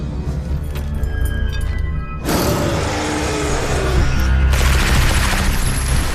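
Anime battle scene from Swallowed Star with a loud burst of rapid gunfire that breaks in suddenly after quieter music and continues densely with mechanical clatter, no clear talk.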